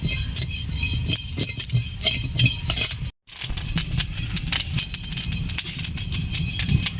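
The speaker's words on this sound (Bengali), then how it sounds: "ধনে আর জিরে আমি একসঙ্গে শুকনো করে ভেজে নেব।" Coriander and cumin seeds dry roasting together in a pan: a continuous close rattle and scrape as the seeds are stirred, broken by a brief silent gap midway.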